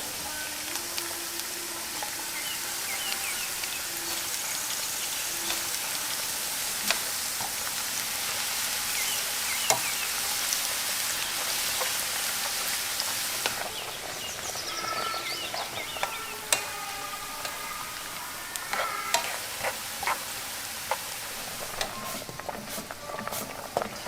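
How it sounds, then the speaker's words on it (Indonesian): Shallots frying in hot oil for a crispy fried-shallot topping, a dense continuous sizzle and bubbling with scattered pops and occasional stirring clinks, close and steady. "Kita goreng bawang dulu untuk topping bawang gorengnya."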